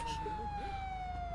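A police car siren in a video game wails as a steady, loud tone with a slowly falling pitch, with a voice talking over it.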